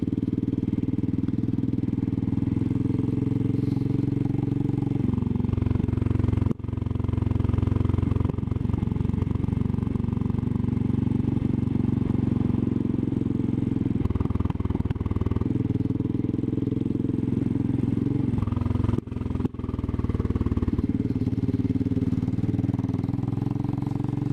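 Royal Enfield Classic 500 single-cylinder motorcycle ridden over a mountain lead mine pass, a steady loud thumping engine drone with brief dips and shifts in throttle, close and continuous, with no talking.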